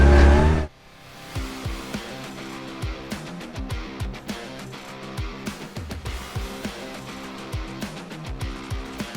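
Buggy engine revving while driving, opening with a loud burst before settling into a steady drone with repeated sharp rev spikes throughout.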